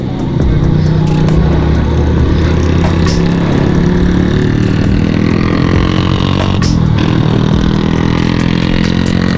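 A motorcycle rides along a hill road near Dagshai in the Solan–Shimla hills, its engine a steady, loud rumble that runs the whole time with constant road and wind noise.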